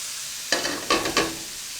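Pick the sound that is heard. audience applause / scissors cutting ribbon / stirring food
stirring food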